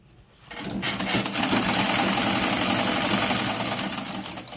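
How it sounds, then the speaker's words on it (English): A sewing machine runs steadily, stitching an inseam side pocket on fabric panels. The motor whirs loudly and evenly for about four seconds after a brief quiet start, with no talking. "push your pocket inward, inside, and then continue stitching like this"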